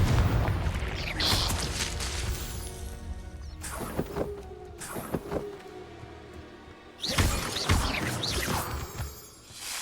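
Confringo fire-blast spell in the video game Hogwarts Legacy, heavy booming explosions with crackling debris, a dense burst early, a few sharp impacts midway and another loud blast near the end, amid constant combat rumble.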